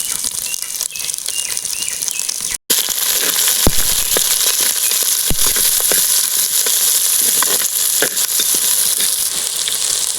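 Shallots and dried chillies sautéing in a pan with curry leaves and pumpkin, a steady dense sizzle and crackle with occasional stirring clatters throughout.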